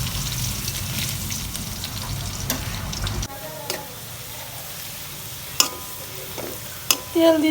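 Garlic and dried red chilies fry in hot oil with a soft, continuous sizzle, broken by a few sharp scraping clicks of a spoon stirring the pan, heard up close without talk.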